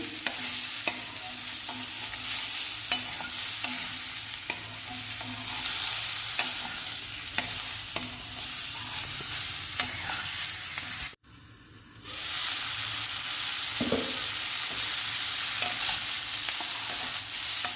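Curry leaves and tamarind fry in a pan with a steady close sizzle and scattered crackles and stirring scrapes, broken by a sudden brief silence before the frying resumes.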